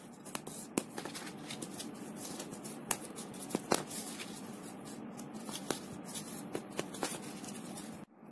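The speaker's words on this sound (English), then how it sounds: "let's fold on all our score lines" Card stock cut for a pop-up cube is folded along its score lines, giving soft, close rustling and scraping with scattered sharp creases and taps, fairly quiet.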